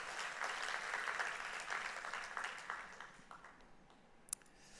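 A Korean church congregation at a Sunday worship service in Kuala Lumpur claps for the choir, dense applause that gradually thins and fades, ending with a single sharp click.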